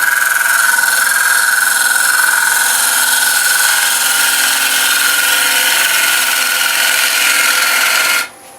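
A chisel cutting a resin and wood bowl spinning on a lathe makes a loud, continuous scraping and rasping with a steady whine, then stops abruptly near the end. No voices are heard.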